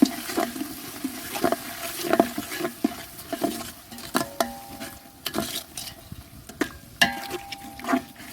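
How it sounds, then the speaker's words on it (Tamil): Garlic stirred while frying in a pan for a Sunday meat feast, a string of distinct scraping and tapping strokes over a soft crackling sizzle, fairly close. "அப்புறம் வந்து பூண்டு, நல்லா கிளறிக்கலாம்."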